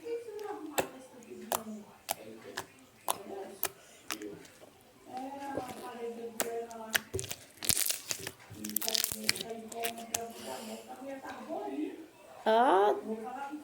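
Homemade slime made with paint and shaving foam gives off sharp clicks, crackles and crinkly pops as it is squeezed and stretched, close and irregular, while someone talks over much of it.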